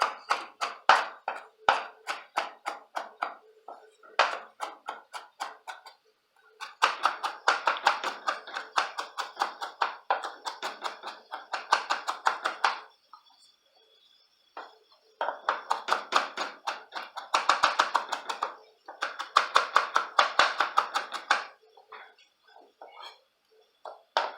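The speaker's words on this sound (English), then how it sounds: "Just a very rough chop on these" A knife roughly chopping herbs for a pineapple salsa on a cutting board, with quick, rhythmic bursts of sharp taps separated by short pauses, close and fairly quiet.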